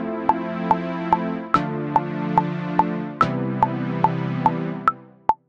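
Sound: metronome ticking with chord progression in BandLab

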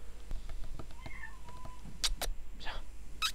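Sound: cat meowing

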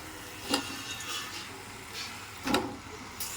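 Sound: mutton added and frying in a pan

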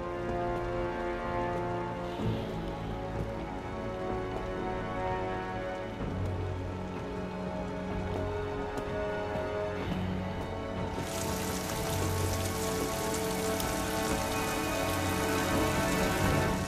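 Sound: rain falling outside in video game Rise of the Tomb Raider

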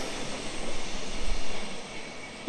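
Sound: Tangara passenger train passing platform

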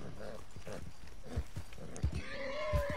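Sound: horse neighing in a video game

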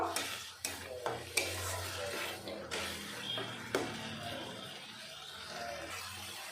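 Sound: spice paste being sautéed in a pan

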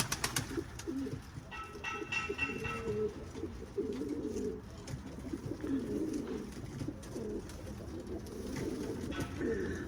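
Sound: Arab breed pigeons cooing before flying

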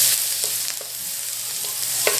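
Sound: sauteing onion in butter in a hot pan

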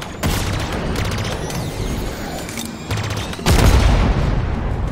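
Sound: explosions in the video game Halo Infinite

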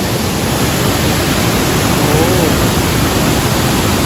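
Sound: rain falling at an abandoned waterfall

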